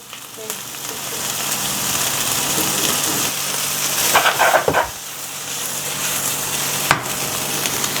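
Corn poured into a hot sizzling pan of chicken taco filling sets off a loud, close, continuous fry, with a brief clatter and stirring midway and a sharp knock near the end.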